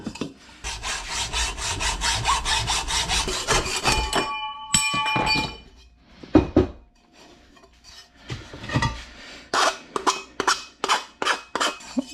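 A plastic snorkel tube for a Honda Talon side-by-side being cut to length with a hand saw: steady close rasping strokes, a pause with a few knocks and clinks, then shorter, sharper bursts of sawing.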